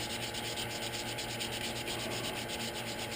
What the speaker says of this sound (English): I'll run for a little bit holding the sandpaper on.